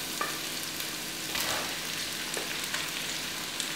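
Sliced courgettes and onions sizzle steadily in a hot pan, a close, even hiss with a few faint stirring taps, and no voices.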